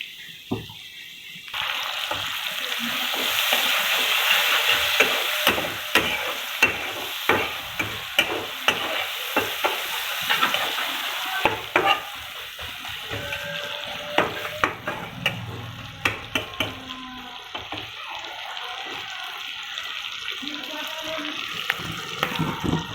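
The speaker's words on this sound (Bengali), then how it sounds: "এই তেলেই কিন্তু নাড়াচাড়া করব, এই তেলে হয়ে যাবে আমার।" Prawns sizzling in hot oil for a prawn malai curry, stirred with a utensil that clicks and scrapes against the pan in a steady rhythm over a constant close fry hiss.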